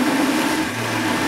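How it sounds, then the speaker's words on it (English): A Lequip RPM blender running at high speed, liquefying peppers and collard greens into a green smoothie, gives a steady, loud motor whir with a dense churning roar that holds constant throughout, with no talk. "Literally just sucks those peppers up and liquefies the peppers in the Lequip RPM blender"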